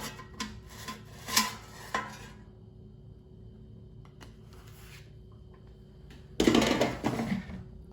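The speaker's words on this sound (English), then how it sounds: "So now let's take it out of the air fryer." A cooked frozen pizza comes out of an air fryer with a few light rubbing and clattering scrapes, then a louder burst of basket and tray handling near the end.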